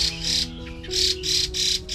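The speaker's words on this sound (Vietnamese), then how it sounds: "Mình sợ con chim này còn không chắc bay được đấy anh em ạ." A red-whiskered bulbul with weak legs and a caterpillar infestation is released, giving repeated harsh, bursting calls in a quick rhythm close by, over a low steady hum.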